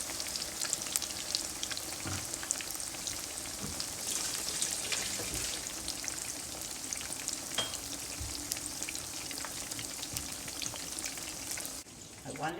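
Shrimp toast frying in hot oil gives a dense, steady sizzle and crackle, close and even throughout, with faint spits popping through.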